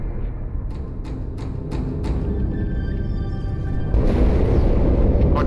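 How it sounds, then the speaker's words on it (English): A heavy, sustained rumble from an explosion in the Halo 2 video game, with several sharp impact cracks early on before the roar swells louder toward the end; no talk. "That explosion was from inside the Athens, same as the Malta."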